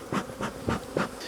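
Honeybees buzz around an open hive at night during queen grafting, a close, dense drone that pulses in four or five regular swells as bees pass near. No voices.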